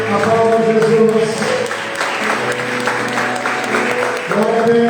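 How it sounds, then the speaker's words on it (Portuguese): A church congregation applauds at a worship service, dense sustained clapping filling the room, with voices calling out over it. "Aplauda Jesus."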